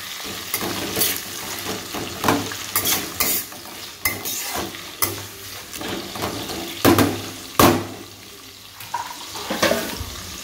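Onions with a pinch of salt are stirred in a frying pan, giving a steady sizzle broken by repeated scraping strokes of a spatula, close and fairly loud, with no talk.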